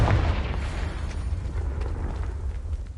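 Confringo explosion spell in a Harry Potter video game, a loud roaring blast whose rumbling boom fills the moment and slowly fades, with no voice over it.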